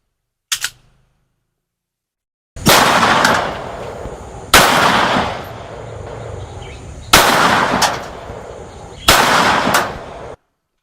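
Four loud shots from a Pindad P3A pistol fired at a 15-meter range, spaced a couple of seconds apart, each with a sharp crack and a ringing tail, after a brief faint click.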